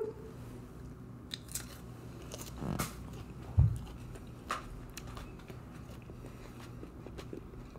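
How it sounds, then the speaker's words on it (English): Close crunching and biting on Carolina Reaper peppers, scattered irregular bites and chewing crunches with one louder crunch midway, over a quiet room with no talking. "We're chewing now."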